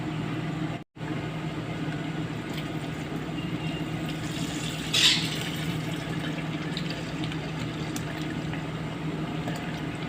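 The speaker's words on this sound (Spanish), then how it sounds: "Vamos a echarle 1 litro de leche y lo vamos a licuar." A liter of milk is poured into a blender, giving a continuous liquid rush that runs steadily and fairly loud throughout, with a brief gap near the start and no talk.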